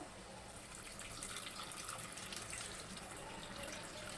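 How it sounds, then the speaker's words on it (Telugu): Water is poured into a tamarind-soured taro and dried fish curry, giving a steady, continuous splashing and trickling wash that fills the whole stretch at an even level with no voices. "కొన్ని వాటర్ కూడా వేసుకుందాము"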